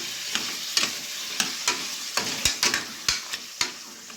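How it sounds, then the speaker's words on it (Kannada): Mutton pieces fry in oil for mutton sambar, a moderate sizzle punctuated by a dozen sharp clacks and scrapes of a ladle against the pan in an uneven rhythm. "ಚೆನ್ನಾಗಿ ಎಣ್ಣೆಲಿ ಫ್ರೈ ಮಾಡಿ ಚೆನ್ನಾಗಿ ಫ್ರೈ ಹಾಕಿ"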